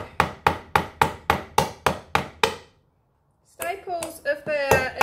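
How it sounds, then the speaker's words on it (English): Eight sharp, evenly spaced taps ring out from a tool striking old staples in a wooden box, followed by a brief silence and then someone talking. "staples, if they're in reasonably straight, you can just treat them like a nail and pry them out."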